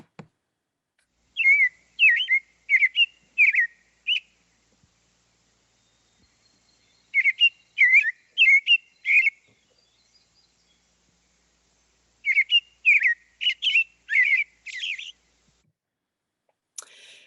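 An American robin sings in three separate bursts of clear, warbling phrases, with quiet pauses in between, heard fairly close and alone against a silent background.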